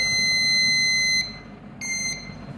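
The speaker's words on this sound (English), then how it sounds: "This is the doorbell mini timer of monostable multivibrator." Doorbell buzzer driven by a monostable multivibrator timer circuit gives a shrill electronic tone that sounds steadily for about a second, cuts off, then sounds again briefly, with no talking.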